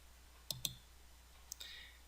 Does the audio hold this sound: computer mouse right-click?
yes